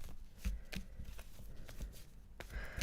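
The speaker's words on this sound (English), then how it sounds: "Shuffling the cards." Tarot cards are shuffled in quiet, irregular riffling bursts of soft papery slaps and flutters, close by and with no talk.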